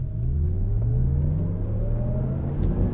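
Cadillac LYRIQ electric car accelerating hard in sport mode with traction control off, a loud continuous rumble of road and tyre noise with a rising motor whine, close and steady, no voices.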